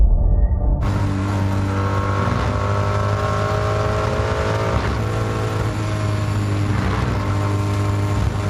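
DTM race car engine heard onboard during a pole position lap, a loud continuous high-revving drone with steady harmonic tones and small gear-change shifts, close and unbroken with no voices.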